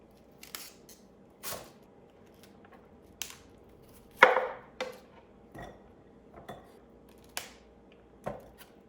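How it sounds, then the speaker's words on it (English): A knife chops through cauliflower on a cutting board while preparing soup, with a string of sharp, separate knocks at an irregular pace, close and fairly loud with quiet gaps between cuts. "I'm just going to keep chopping here"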